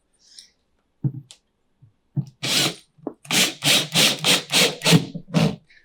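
A power screwdriver drives screws through PVC into a Vivarium Electronics Super70-5 Series II rack, giving a quick run of about eight short, evenly spaced whirring bursts after a few scattered clicks and handling taps.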